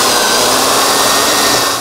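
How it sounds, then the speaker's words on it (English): A power drill bores a hole through wood for an inside cutout, a loud steady whirring grind running unbroken for nearly two seconds before it begins to wind down at the end. "First, we need to drill a hole about that big or so, anywhere inside the cutout."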